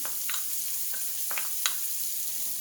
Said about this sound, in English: And we're going to add 3 cloves of garlic, minced. That goes in.